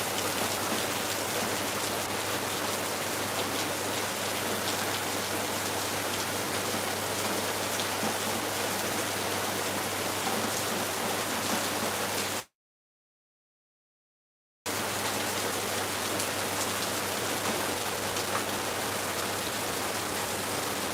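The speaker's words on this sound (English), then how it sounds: "But this rain is heavy, man." Heavy rain in Lagos pours down in a dense, continuous hiss, briefly cutting out to total silence before resuming just as strong.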